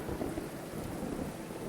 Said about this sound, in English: I'm guessing the storm was probably going to rage for at least 2 days